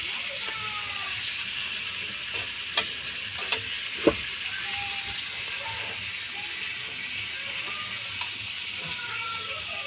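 Chicken inasal fries in a home pan, a steady close sizzle with a few sharp clacks and scrapes as the pieces are turned over.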